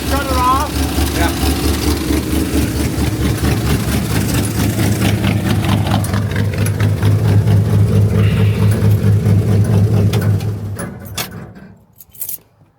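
Old small-block V8 car engine, fitted with points ignition being swapped for HEI, idling with a deep steady rumble and slight surges, then shut off and winding down; voices talk over it near the end.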